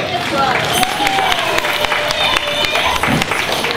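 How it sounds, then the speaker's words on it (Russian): Audience applause at a team game show during the Tribal Weekend 2016 festival, a steady wash of clapping from a crowd with a high whistle-like tone running through it, continuous and fairly loud throughout. "Команда с глазом. Аплодисменты"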